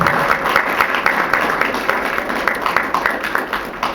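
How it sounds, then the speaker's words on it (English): Audience applause at a poetry festival open mic, a steady wash of many hands clapping for the closing speaker, fairly loud and continuous. "Give her a round of applause as well as yourself again"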